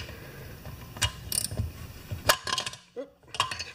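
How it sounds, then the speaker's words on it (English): Small 1/4-inch ratchet clicking as it backs out engine bolts on a Briggs motor, short ratcheting bursts with metallic clinks, close and fairly loud, no voice over it. "all you need is a small 1/4-inch ratchet."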